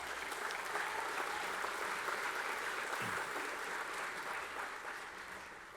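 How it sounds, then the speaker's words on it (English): Audience at the Sydney Institute annual dinner applauding, a steady dense wash of clapping from many hands in a large room that holds evenly and begins to taper toward the end. "please give them a round of applause"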